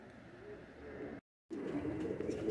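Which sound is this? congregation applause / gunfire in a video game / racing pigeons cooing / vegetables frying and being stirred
racing pigeons cooing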